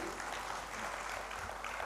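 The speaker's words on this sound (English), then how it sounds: "Please put your hands together for him." Applause from a conference audience greeting a foundation chairman as he is invited on stage at an inaugural ceremony, heard as a faint, steady wash of many hands clapping from a distance.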